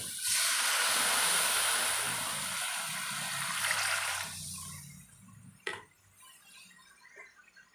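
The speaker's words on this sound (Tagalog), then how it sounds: "At tapos nating igisa, maglagay tayo ng water." Water pours into a hot pan after sautéing, a loud rushing hiss that lasts about four seconds and then fades into a quiet simmer, with a single clunk shortly after.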